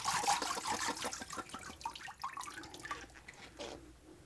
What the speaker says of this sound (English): I'm putting the pulp into water in preparation for dipping in the screen and making the paper.